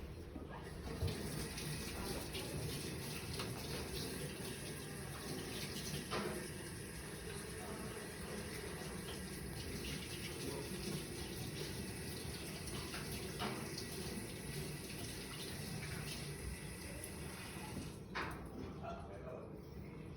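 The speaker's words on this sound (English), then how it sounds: "Go ahead and wash your hands again." A tap runs steadily into a sink while hands are washed during an occupational therapy session, a continuous soft splashing hiss with faint clatters throughout.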